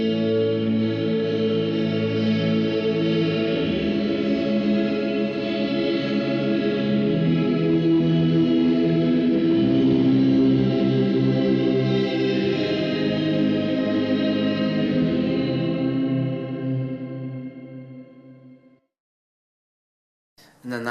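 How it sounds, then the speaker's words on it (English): Electric guitar run through effects pedals producing a big ambient pad, a sustained, swelling chord wash with chorus-like shimmer that holds steadily and then cuts off abruptly near the end. "And I also use it for sort of big ambient pad sounds"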